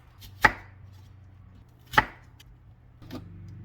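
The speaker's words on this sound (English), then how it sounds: "Start by chopping off the ends of the onion." A knife chops the ends off an onion on a cutting board: two crisp, sharp cuts about a second and a half apart, then a softer third knock, close and alone in a quiet kitchen.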